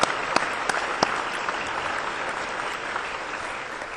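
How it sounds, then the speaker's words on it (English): Audience applause at a presidential investiture ceremony, opening with a few sharp individual claps before settling into a steady, full wash of clapping from a sizable crowd. "a round of applause?"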